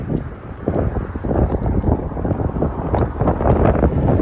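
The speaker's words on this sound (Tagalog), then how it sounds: "it's so windy when the snow's coming" Strong wind roars and buffets the microphone in continuous low gusts, loud and rumbling throughout.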